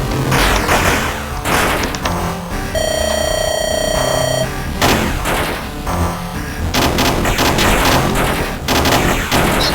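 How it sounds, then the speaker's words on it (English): Machine gun fire in the pixelated 2D video game Rolling Bird, with loud, dense bursts of rapid shots and a sustained electronic alarm-like tone partway through, and no talking. "It's fun to clear out the room with the machine gun"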